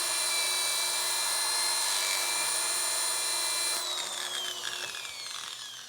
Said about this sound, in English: I'm just going to sand a little bit of the rim here just to show you the sanding sequence.